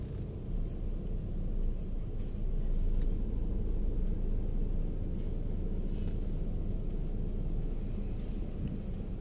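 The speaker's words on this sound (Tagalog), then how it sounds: "Traffic. Ganina pa ning traffic." Steady low road rumble of traffic in Minglanilla, with car engines droning continuously and no distinct horns or voices standing out.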